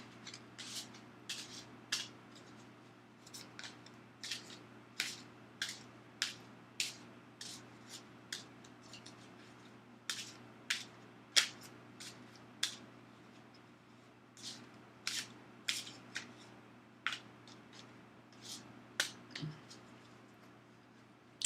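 Tarot cards being shuffled by hand, giving a long run of short crisp riffles and slaps at an uneven, steady pace over a low hum, with no talking.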